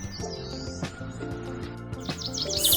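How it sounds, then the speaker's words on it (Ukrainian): Birds chirp and trill over a continuous musical background, with a brighter burst of tweeting near the end. "Сонечко тільки прокинулося, а пташки вже співають своїх пісень."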